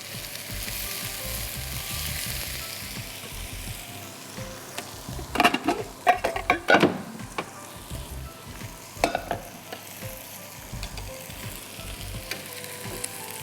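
Potatoes frying in hot oil for a Bohri biryani, a steady sizzle running throughout with a burst of louder crackling and stirring clatter in the middle, no voices.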